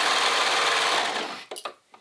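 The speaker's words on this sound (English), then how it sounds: "And then the sleeves, we'll sew them up." A sewing machine runs steadily at speed, stitching up the sleeves of a T-shirt dress, then slows and stops with a few short final bursts of stitching.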